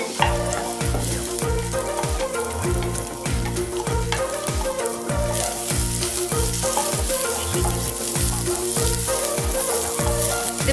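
Sliced onion, green chillies and curry leaves are sautéed in a pan for a Kerala-style chicken stew, making a loud, dense, continuous sizzle and crackle with stirring scrapes, no voices.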